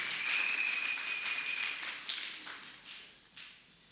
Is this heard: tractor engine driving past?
no